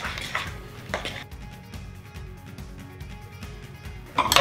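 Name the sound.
mixing banana bread batter with eggs in a bowl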